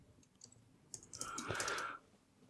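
A computer keyboard being typed on, a quick cluster of close clicks and clatter building to a denser burst of keystrokes in the second half.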